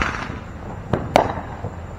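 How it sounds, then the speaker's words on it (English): Fourth of July fireworks going off at night at some distance, a few separate muffled pops and cracks over a steady background hum, with no talk. "all the goddamn fireworks."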